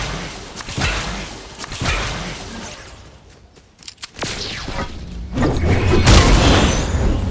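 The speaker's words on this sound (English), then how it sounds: "they're fucking shooting at me" Gunfire erupts in a Fortnite match: a string of sharp cracks and booms with whooshes and thuds, near and loud, thinning briefly midway before heavier, denser blasts resume.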